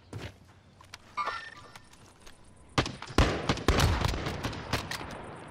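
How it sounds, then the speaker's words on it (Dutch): Gunfire in the Call of Duty Warzone battle royale: a cluster of sharp shots and quick bursts starts midway and keeps going, fairly close and loud, mixed with footsteps and bits of players talking. "Oh, ze schieten al of niet?"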